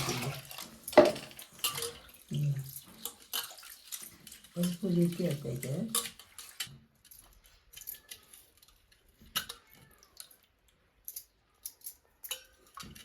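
Sea snail shellfish are scrubbed clean in a pot of water to remove black sand, with wet clattering shells and sloshing splashes in bursts, while people talk nearby.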